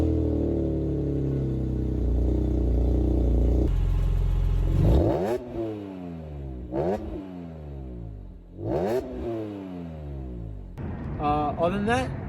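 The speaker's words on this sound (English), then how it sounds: "I put a status group exhaust on here, so it sounds pretty nice." A BMW E46 M3 with a Status Group aftermarket exhaust and a stock airbox idles with a low, steady rumble, then revs hard through several gear changes. Its rising pitch sweeps repeat loud and close, with a brief lift between pulls.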